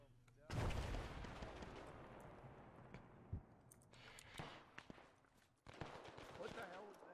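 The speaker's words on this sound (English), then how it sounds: "That's a machine gun." Machine gun fire in the military shooter Arma 3, heard as bursts of loud, close gunshots and rattling volleys with pauses between them, while a voice talks over parts of the action.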